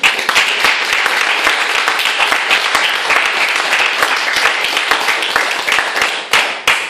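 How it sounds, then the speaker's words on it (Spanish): A church congregation at an evangelical service applauds loudly and continuously, many hands clapping close together in a sustained roar that thins briefly near the end. "Den un fuerte aplauso al Rey de la Gloria."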